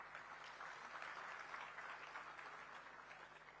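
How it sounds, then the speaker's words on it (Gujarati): An audience at a Gujarat Media Club event welcomes the festival with sustained, even applause from many hands, quite faint and distant, with no clear speech over it. "આ પર્વના વિધિવત સ્વાગતને આપણે તાળીઓના ગડગડાટ સાથે વધાવીએ"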